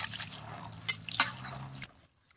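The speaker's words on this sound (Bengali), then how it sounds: "আগে জল দিয়ে ভালো করে চটকে চটকে আমি ধুয়ে নেব" Wheat grains are kneaded and squeezed by hand in water for washing. Close wet squishing and dripping sounds with a few sharper splashes, then they stop abruptly into silence.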